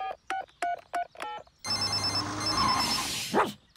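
A telephone rings in a Peppa Pig cartoon: a series of short, bright electronic ring bursts in a steady rhythm, followed by a louder, noisier stretch of busy cartoon sound.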